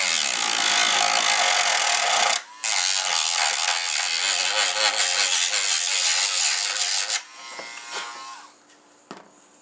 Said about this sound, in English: have my Dremel tool here. So what I'm going to do is kind of dig into this and roughen it up